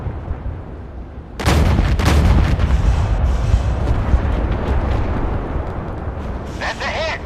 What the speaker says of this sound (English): Ready to open fire on the enemy.